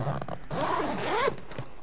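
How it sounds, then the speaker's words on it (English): A zipper on a Planet Eclipse GX Split Compact gear bag being pulled open, a close, steady rasping run that rises and falls over nearly two seconds. "Now we can open the top zipper."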